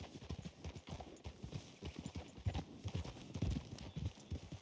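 Horse hooves clip-clop steadily through woodland in Red Dead Redemption 2, a close, continuous run of rapid thuds with a brief whinny-like sound mixed in.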